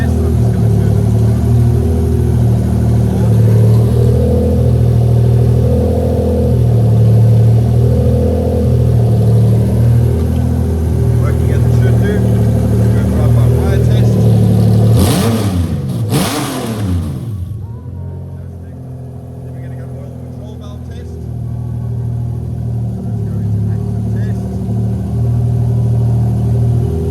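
A Toyota 2JZ-GE VVT-i engine fitted in a Lexus IS300 runs at a steady, loud rumble, with a rising rev burst near the middle before it settles back to idle.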